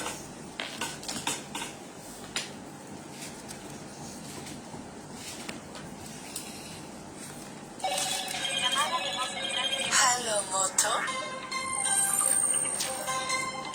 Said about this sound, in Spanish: Justo me están llamando al otro teléfono.